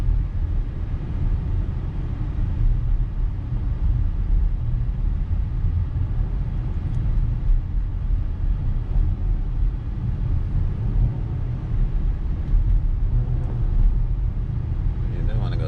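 A 2019 Dodge Journey SUV rounds a circle in a steady, loud cabin rumble of engine and road noise with no change in pace.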